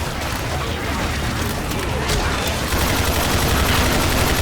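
Dense gunfire in the video game Left 4 Dead 2, continuous rapid shots and bursts forming a loud, unbroken wall of noise, with a voice talking underneath.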